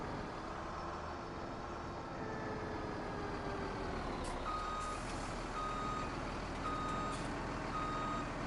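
Truck reversing beeps repeat steadily over a continuous engine rumble while trailers are parked in Farming Simulator 17, the tones clear and evenly spaced against the game's droning vehicle noise.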